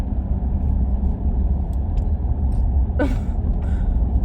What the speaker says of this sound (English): her truck keeps making really weird sounds that it never did before, and it keeps like jerking